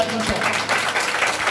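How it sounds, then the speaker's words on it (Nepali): Members of a church congregation clap their hands in thanks during a sermon, a short, dense patter of many claps blended with voices. "हामी ताली बजाएर प्रभुलाई धन्यवाद दिन्छौँ।"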